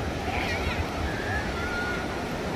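Sea surf at Murudeshwar temple beach, a constant low rumble of breaking waves with wind buffeting the microphone and a faint boat engine in the distance.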